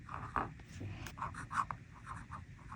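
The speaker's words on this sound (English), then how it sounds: "I have this in my Scribo Madalena, which is a fine flex nib. So this is putting no pressure." Fine flex nib fountain pen, a Scribo Madalena, writing with no pressure: soft scratchy strokes of the nib on paper in short bursts, close and quiet, with no talking.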